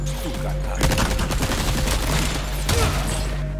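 Rapid gunfire in Resident Evil 4 Remake, loud repeated shots in quick bursts over a constant low game hum, with no one speaking.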